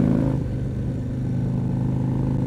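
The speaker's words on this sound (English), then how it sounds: "This bike reminds me so much of the 109 in terms of how it bites and how the exhaust just talks to you." Indian Chieftain motorcycle fitted with a 585 cam, its engine and exhaust running loud and close with a steady, throbbing low rumble throughout, no talking over it.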